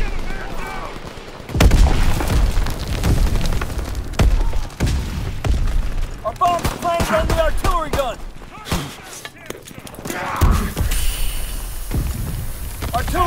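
Artillery guns and small-arms fire in a World War II Normandy battle from Call of Duty WW2, with repeated sharp gunshots and heavy thumps throughout, under shouted voices and radio chatter.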